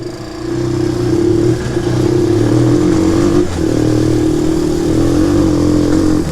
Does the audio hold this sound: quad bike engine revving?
yes